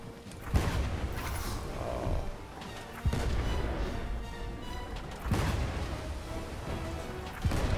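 Ship cannons firing in the pirate video game Blazing Sails, several heavy booms spaced a few seconds apart, each with a rumbling tail over continuous game ambience.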